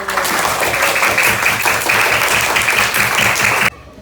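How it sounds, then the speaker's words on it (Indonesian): Students in a class clap together at the end of a Quran recitation lesson on Surah Al-Ma'un. The clapping is dense and steady and fairly loud, with a rhythmic pulse in it. It cuts off abruptly just before the end. "Kita tepuk tangan dulu."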